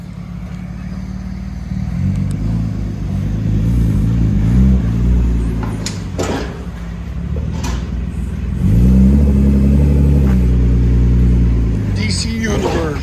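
A 1995 BMW 325i inline-six with a stainless DC Sport exhaust idles with a deep, steady rumble and then revs up louder for a few seconds, close by, while people talk over it.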